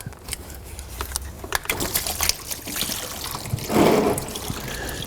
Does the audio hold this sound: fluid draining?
yes